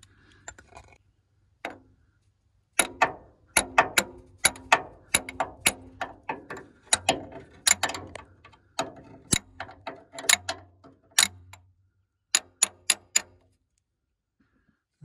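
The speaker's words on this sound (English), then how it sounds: "That's a good use of my brand new ratchet here." A new hand ratchet clicks in quick irregular bursts while a Ford F250 6.9 IDI diesel starter is being removed, sharp close ticks in short runs with brief pauses between.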